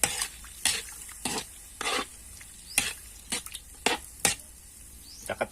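Coconut milk being stirred in a pot, in separate scraping stir strokes about every half second to second over a low bubbling background, close and moderately quiet, no speech.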